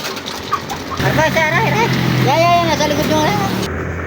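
Live chickens cluck and call nearby at a roadside shop in Barangay Mabalanoy, San Juan, Batangas, several birds at once, over a steady low engine rumble with some background voices.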